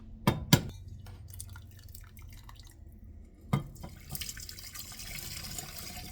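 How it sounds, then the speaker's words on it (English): Green bean soup broth strained through a sieve into a pot: a couple of sharp clinks and a later knock over a soft, steady trickle of liquid, ending in a brief louder pour, with no talking. "Then I will strain it because I want a nice smooth broth for my soup."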